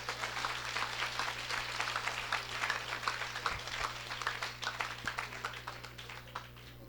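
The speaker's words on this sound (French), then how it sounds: "On applaudit bon Dieu pour l'amour ça." A church congregation claps in praise to God, quiet, rhythmic many-handed applause at a steady beat, heard from a distance over a low electrical hum.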